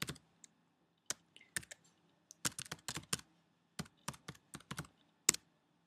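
Password being typed on a computer keyboard while logging into a client portal: short bursts of crisp key clicks, close and fairly quiet, with brief pauses between clusters and no talking.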